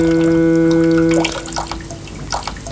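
Water runs from a tap into a bathroom basin in a steady splashing rush, loud and close, with a sustained humming tone that drops away partway through.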